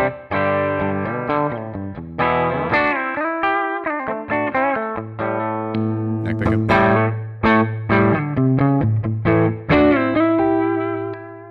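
An electric guitar played through a Kemper amp's normal channel gives a darker, woolly tone. It plays a continuous run of sustained notes and chords with some distortion and chorus, loud and alone.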